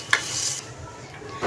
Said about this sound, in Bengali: এখন আমি পোলাও চাউলটা ভেজে নিব